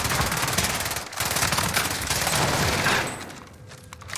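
Rapid automatic C58 rifle fire in the Warzone video game on Rebirth Island, a loud continuous burst of closely spaced shots lasting several seconds before easing off slightly at the end.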